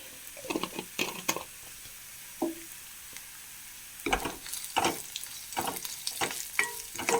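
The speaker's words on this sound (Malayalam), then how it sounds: "നമുക്കിതിലേക്ക് ചതച്ച മുളക് ഇട്ട് കൊടുക്കാം" Crushed chili frying in a pan of oil, a sizzling crackle that comes in bursts with short quiet gaps and stirring scrapes, close and fairly soft.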